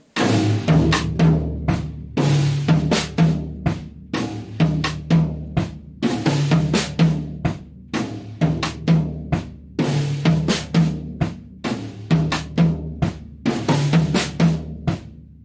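A Ghana groove played on a drum kit: a steady, busy pattern of close, punchy hits mixing low drum thumps with crisp cross-stick clicks, looping in regular phrases with no talking.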